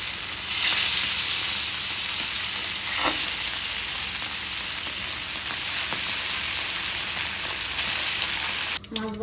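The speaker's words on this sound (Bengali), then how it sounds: "মাছ ভাজা" Small tilapia fish fry in hot oil with a steady, loud, close sizzle that holds for several seconds, broken by a few brief stirring knocks and a short clatter at the end.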